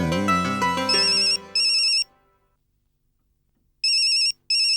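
An electronic phone ringtone plays a bright melodic jingle, then repeating beeping rings in short bursts with a pause between them, clear and close.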